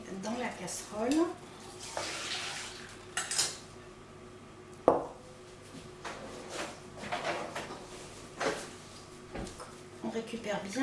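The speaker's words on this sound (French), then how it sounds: "Je fouette bien." A whisk scraping and clinking against a saucepan while milk with vanilla seeds is worked in, irregular metallic taps and rattles with a voice talking between strokes.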